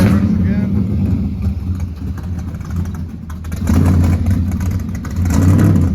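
A car pulls into a garage bay, its engine rumbling close by and swelling twice as it is revved, with someone talking over the motor.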